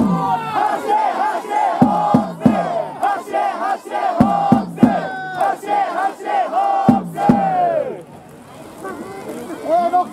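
A Fukuoka SoftBank Hawks baseball cheering crowd at Ivy Stadium after a rained-out preseason game, chanting loudly in unison with rhythmic shouted calls, dense and close, fading briefly near the end.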